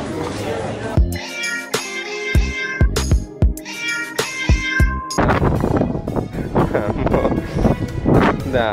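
A cat on a cushion aboard an MSC cruise ship meows several times, close and clear, in short tonal calls over about four seconds, followed by a person talking.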